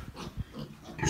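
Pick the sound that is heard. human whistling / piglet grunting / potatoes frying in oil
piglet grunting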